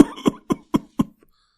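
A cartoon man gives five short, sharp coughs in quick succession, close and clear, followed by a faint trailing throat sound and silence.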